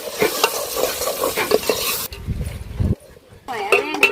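Ginger garlic paste sizzles and fries in a pan while a utensil stirs and scrapes, with a voice talking over the cooking at the start and end.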